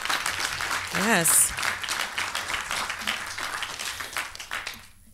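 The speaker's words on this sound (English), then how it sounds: "So I want to just get a round of applause" An audience applauds a short film, a brief burst of clapping heard beneath a speaker who keeps talking to the room.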